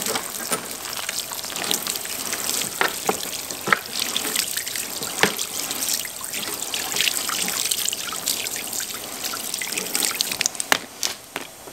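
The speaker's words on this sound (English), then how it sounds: "Then we're going to spray it off and see how well it does just with no agitation." Garden hose water sprays onto greasy mower parts, blades and wheels with no scrubbing, a steady hiss and splatter with irregular dribbling bursts as the low-pressure stream hits metal, no talking.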